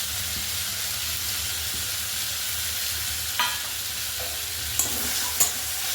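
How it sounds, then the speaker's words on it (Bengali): Ginger-garlic paste, freshly ground on a grinding stone, sautéing in a pan for a fish gravy: a steady, close hiss of frying with a few faint scrapes and clinks of stirring toward the end. "দিয়ে ভালোভাবে কষাতে থাকবো"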